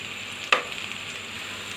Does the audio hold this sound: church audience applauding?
no